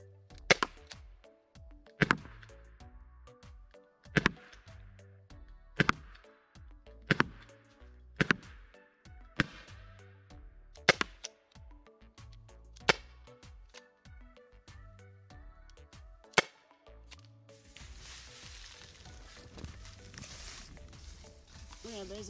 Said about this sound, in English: It does sound like a gun being fired